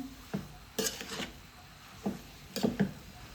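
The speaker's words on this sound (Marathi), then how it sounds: "गाजर त्या किसला जरा एक मिनटं परतून घेणार आहे" Grated carrot sautéed in ghee in a pan, stirred with a spoon that scrapes and taps the metal in short irregular bursts over a faint sizzle, close and fairly quiet.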